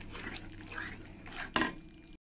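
A spoon stirs yogurt into spices in a pan for a Bengali tel koi fish dish, with soft scraping strokes and one sharp metallic clink against the pan near the end.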